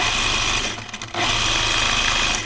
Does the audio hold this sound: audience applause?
no